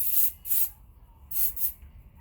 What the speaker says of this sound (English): I'm going to spray.